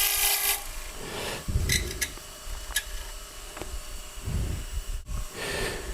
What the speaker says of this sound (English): Then I can hollow up through this area